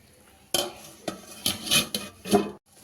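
A metal lid is set onto a pan of egg bhurji, making several close metallic clanks and knocks in quick succession over a faint background.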